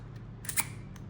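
A Canon II F2 rangefinder's shutter fires once at 1/15 second, giving a faint, quick mechanical click in a quiet room with soft background hiss and no voices.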